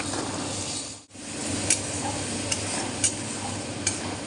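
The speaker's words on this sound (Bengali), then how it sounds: "পেঁয়াজ আর টমেটো একসঙ্গে ভাজবো" Onion and tomato frying together with a spice paste for a fish curry, a steady broadband sizzle throughout with a brief dropout near the start and a few light clicks of a spoon or spatula against the pan.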